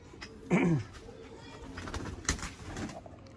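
Teddy pigeons cooing in a breeder's loft, one close, fairly loud coo near the start followed by fainter cooing and background bird sounds, with low voices murmuring.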